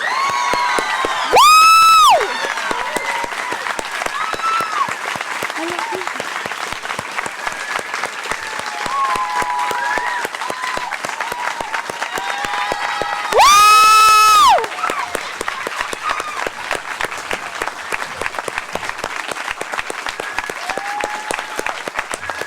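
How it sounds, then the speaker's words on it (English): A high school graduation crowd claps and cheers continuously, dense and loud. Two sharp whoops or shrill whistles rise above the applause near the start and again later. "Everyone, please give my sister the biggest round of applause."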